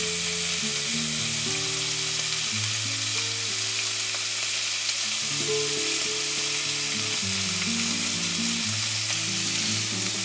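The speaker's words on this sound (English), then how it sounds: "place the chopped onions into the meat and cook them until they're soft" Ground meat and chopped onions fry in a pan for shepherd's pie, giving a loud, steady hiss of grease and constant crackling, close up and uninterrupted, over a low background hum.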